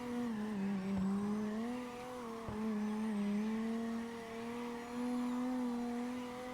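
Engine of a BMW E36 in the CarX Drift Racing Online video game holding a steady, sustained drone during a drift, with slight pitch wavers and a couple of brief clicks, loud and continuous with no talking.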